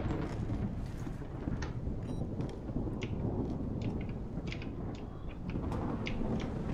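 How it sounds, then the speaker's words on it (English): Steady heavy rain with low rumbling thunder in the space-exploration game The Solus Project, a dense continuous wash with scattered sharper drop hits and no speech. "Oh, it's still raining."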